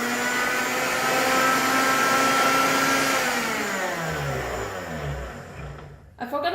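An SKG multifunctional smoothie blender running its puree program: a loud, steady motor whine that holds, then winds down in falling pitch and stops near the end.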